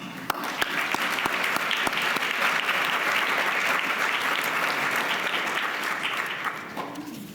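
Sustained audience applause at a university writing awards ceremony, a dense steady wash of many hands clapping that holds loud for several seconds before tapering off near the end.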